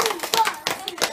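Summer camp audience clapping after a coin magic trick, several quick rhythmic bursts of close hand claps with a voice briefly heard.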